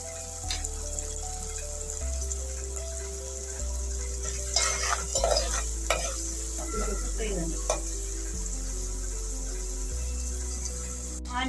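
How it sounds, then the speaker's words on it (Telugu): Onions sizzle steadily in a hot pan with salt, cooking down for a drumstick curry, while a spoon stirs and scrapes now and then over a constant close frying hiss. "ఇది కొంచెం బ్రౌన్గా వేయించుకుంటాం."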